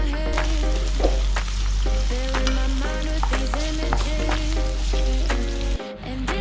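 Onions sizzle and fry steadily in hot olive oil for a stovetop beef broccoli dish, a constant loud crackle with occasional stirring clinks, briefly cutting out near the end.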